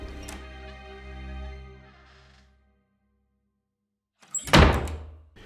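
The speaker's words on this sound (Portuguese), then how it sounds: "eu peguei a maçaneta daquele quarto das velas e girei a maçaneta. Levemente a porta se abriu." A door is opened slowly by turning its knob, giving one close, sharp thunk and rattle that follows a fading sustained tone and a short silence.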